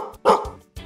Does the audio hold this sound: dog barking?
yes